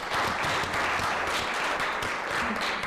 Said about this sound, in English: let's have a round of applause for our candidates